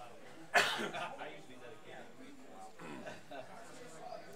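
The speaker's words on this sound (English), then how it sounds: "That was a cough, tickle in my throat" A single sharp cough bursts out near the start, followed by quiet, indistinct talk and room noise.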